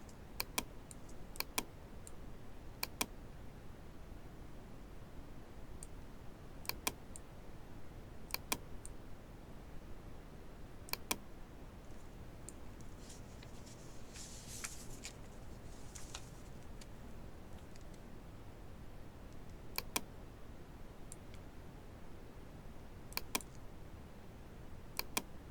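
Computer keyboard and mouse clicks while working in Photoshop, sparse crisp taps and clicks scattered irregularly over a faint background hiss, close to the microphone and fairly quiet.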